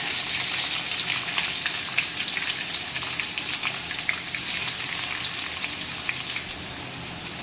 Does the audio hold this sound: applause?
no